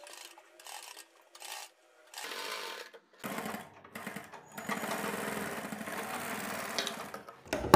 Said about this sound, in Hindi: हम यहाँ पर अपनी कन्नी की सिलाई शुरू से लेकर आखिर तक लगाएंगे नेक को क्वार्टर इंच अंदर करते हुए